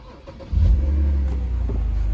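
A BMW E90 car engine with a leaking radiator turns over and catches at about half a second, then settles into a steady, loud low rumble close by.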